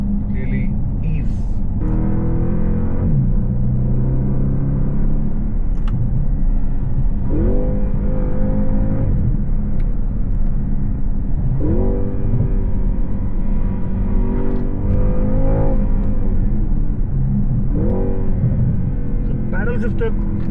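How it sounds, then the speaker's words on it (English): A premium sedan accelerating hard in Sport Plus mode, its engine rising in pitch through several quick upshifts as a steady loud drone, with someone talking over it throughout. "I'm in the Sport Plus mode now, and the gear shifting up very quick"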